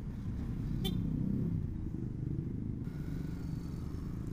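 Road traffic at a standstill ahead of a rider on a Yamaha New Vixion motorcycle, with a steady low engine rumble and a brief high horn-like tone near the start, no talking.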